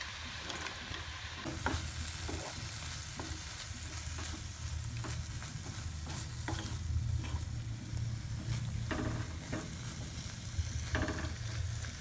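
Dry fruits dropped into boiling caramel syrup for a non-alcoholic plum cake, the syrup bubbling and sizzling steadily while a spoon scrapes and stirs in repeated strokes throughout, nearby and with no voices.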